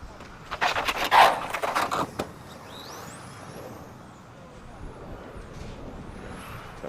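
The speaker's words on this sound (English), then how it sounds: "That was the 10 car of David Reap, just traction rolling in front of the ambient mic, which was the reason for the noise." A 1/10th electric touring car traction rolls past a trackside ambient mic at the EFRA Euros: a brief loud scrubbing, rushing burst with thin whining streaks that quickly falls away to low background noise.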